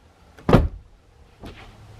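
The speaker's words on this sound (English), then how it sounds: "When you shut your door, this window should roll up." Passenger-side power window on a Dodge Challenger or Charger running up after the door shuts, heard as a short motor whir and thump followed by a fainter second movement about a second later, alone in a quiet setting.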